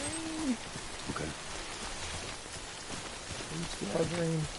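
Rain in the video game Death Stranding: a continuous patter of rainfall with a few brief tonal game sounds over it.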